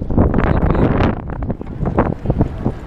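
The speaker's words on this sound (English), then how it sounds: "Bit windy. You can't hear me that well." Heavy, close wind rumble batters the microphone in uneven gusts, loud and muffled throughout with no clear voice.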